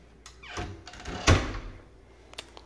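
A house door, a utility closet or pantry door, swings open with a soft creak and a muffled thunk, followed by faint handling sounds.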